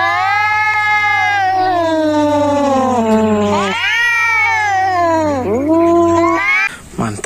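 A cat meows repeatedly up close, with long, drawn-out, wavering yowls that rise and fall in pitch.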